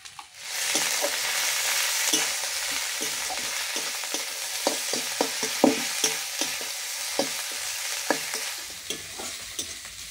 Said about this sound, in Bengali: মশলাটা ভালো করে ভাজা হয়ে গেছে